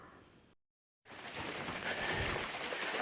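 Steady rain falls on the Appalachian Trail, a dense continuous hiss that cuts out briefly and then returns louder, with soft patters and drips.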